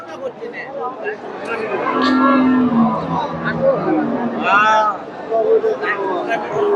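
Cattle, including Friesian dairy cows with calves, moo over the busy chatter of a crowd at Dakumara cattle market in Bogura, with people talking close by amid general market bustle.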